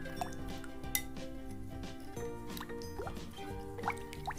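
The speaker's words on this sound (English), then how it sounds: "now we need to mix it super nicely" Clear jiggle water slime being mixed without borax, giving continuous wet squishing and dripping sounds with small clinks from the container, steady and close, no talking.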